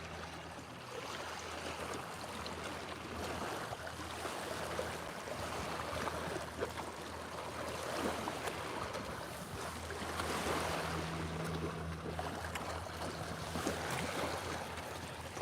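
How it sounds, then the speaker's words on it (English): Waves wash and lap steadily against a fishing boat out on open water, with a low continuous rush and wind, and no voices. "It's the waves."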